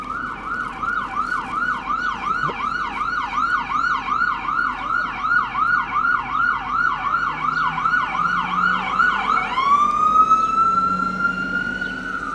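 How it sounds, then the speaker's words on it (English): A loud electronic siren wails in a fast, repeating yelp pattern for about ten seconds, then shifts into a long rising tone near the end. "Cue the sirens."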